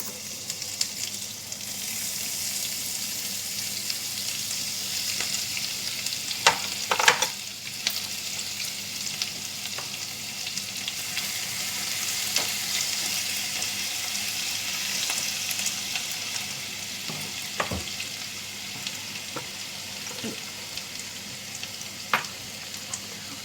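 Crushed ginger, garlic and green chili with ajwain seeds sizzle and fry steadily in a pan, a continuous close hiss with a few brief stirring clinks and pops.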